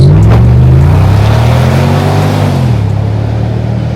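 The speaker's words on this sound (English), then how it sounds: "it's got a 5-litre supercharged V8 under the bonnet" A Range Rover SVR's 5-litre supercharged V8 revs loudly and close up, a deep rumbling roar that swells and then settles.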